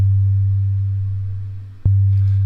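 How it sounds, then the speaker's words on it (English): A G1 sine wave oscillator in Ultrabeat, a pure low tone that fades steadily, then breaks off with a short click and resumes at full level for its last moments. "we've got a G1 sine wave oscillator decaying away to silence in 2 seconds"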